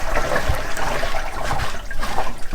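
Water drains steadily through a fine mesh sieve holding wet chicken feed, a close, continuous trickling and splashing that swells and eases over a couple of seconds, with no talk.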